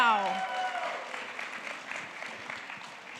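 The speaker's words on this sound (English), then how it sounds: "Can we please give her another round of applause?" At a Diwali 2022 celebration, an audience applauds a performance with a soft, sustained patter of many hands. A voice is heard briefly at the start, then the clapping continues and slowly fades.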